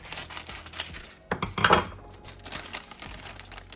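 Scissors snip through paper along a traced circle, giving a close series of short crisp cuts and crinkles with a few louder clips midway, no talking.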